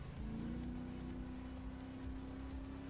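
A supercar engine in GTA 5 drones steadily in a low hum, fairly quiet and unbroken, with no talk over it.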